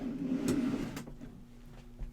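A Milwaukee Packout tool-box drawer slides open, a short rolling rumble with a sharp clack, followed by faint rattles of loose miscellaneous contents settling.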